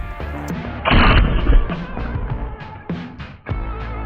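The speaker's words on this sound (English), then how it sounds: "Let's sling some armor-piercing incendiary 12 gauge ammo at this thing to see if it can stop it." A 12 gauge armor-piercing incendiary shell fired at Dullahan Innovations body armor outdoors, one loud, close blast with a rumbling tail, followed by fainter thumps and clatter.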